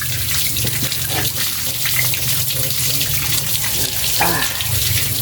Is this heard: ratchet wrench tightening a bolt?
no